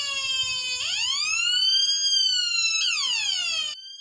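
A loud electronic ambulance-style siren tone from a 555 timer circuit sweeps upward, holds, then drops and rises again before cutting off abruptly, harsh and buzzy.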